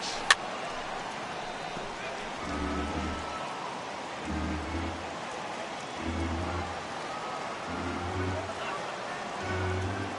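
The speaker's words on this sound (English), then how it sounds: "the rain starting to intensify here. It's coming down a little heavier now." Steady rain falls in the baseball video game MLB The Show 18 as a constant soft hiss, with low periodic murmurs underneath throughout.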